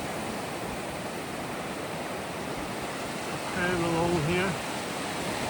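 Pacific Ocean surf on Cairns beach in Queensland's Northern Beaches rushes in a constant broad wash, and someone speaks briefly over it near the end.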